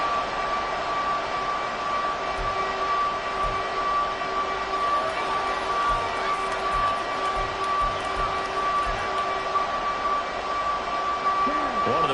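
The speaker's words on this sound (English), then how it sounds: "the crowd getting into it as we come up on a big 3rd down" Stadium crowd roar in an American football video game, a steady loud wash of cheering that holds through the whole stretch with a faint sustained tone underneath, ahead of a big third down.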